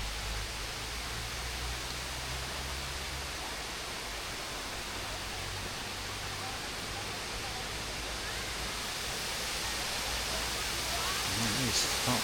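Sai Yok Waterfall in Thailand, a broad continuous rushing roar of falling water in bamboo forest, steady and enveloping throughout, with a faint low hum early on.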